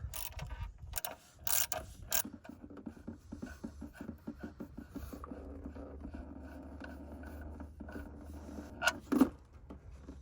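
A ratchet wrench loosens the oil drain bung on a bus, with a close, rapid series of clicking pawl ticks in bursts, separated by a few sharper knocks of metal.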